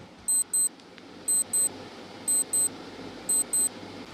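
An on-screen countdown timer for a history quiz emits crisp, high electronic double beeps, one pair roughly each second, evenly spaced over faint background hiss.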